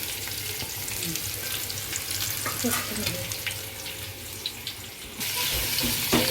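Onion frying with whole spices in a pan for homemade chicken biryani, a steady close sizzle with occasional stirring scrapes and clinks, growing a bit louder near the end.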